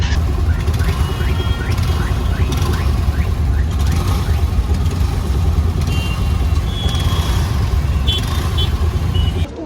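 Busy city road traffic in India, a loud, continuous rumble of engines close by, with a run of repeated beeping horn or reversing tones and occasional higher whines passing through.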